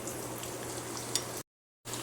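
Chopped onion hits hot oil in a kadai already crackling with cumin and mustard seeds for a Marathi amti, giving a steady close sizzle with one sharp pop before the sound cuts briefly to silence and resumes.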